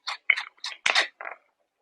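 A worn pepper grinder cranks out pepper in five short, dry grinding bursts with brief pauses between them, close and crisp against silence.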